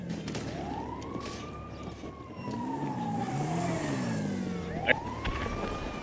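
An ambulance siren in a video game wails in long rising and falling sweeps, loud and fairly close over a steady engine rumble, with a second siren sweep starting near the end.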